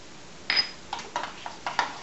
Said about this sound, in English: And we just mix that together.